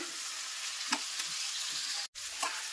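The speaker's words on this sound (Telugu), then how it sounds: "ఇలా ముక్కలుగా కట్ చేసుకుని దోరగా ఫ్రై చేసుకోవాలి" Chopped onions fry in oil in a pan for mutton curry with a continuous close sizzle. A few soft stirring knocks break it, and a brief dropout comes near the end, with no voice over it.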